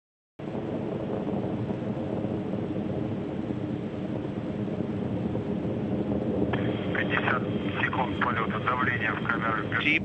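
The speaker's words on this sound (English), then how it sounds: "The Soyuz delivering 102 tons of thrust from its 4 boosters and single engine." A Soyuz TMA-18 rocket launches on four boosters and a single liquid-fuel engine, giving a steady, dense roar that holds throughout while a narrator speaks over it.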